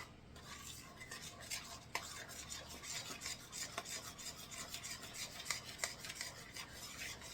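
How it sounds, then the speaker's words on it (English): Zucchini bread batter being stirred by hand in a bowl, a steady rasping, scraping rub with occasional sharper clinks of the utensil against the bowl, close and continuous with no talking. "You can stir it, but no reason to beat it."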